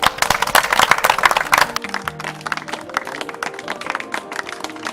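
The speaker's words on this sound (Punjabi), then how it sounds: "ਤਾੜੀਆਂ ਮਾਰ।" A village crowd claps in a Punjabi film scene, a dense burst of applause at first that thins into scattered, sparser claps over the last few seconds.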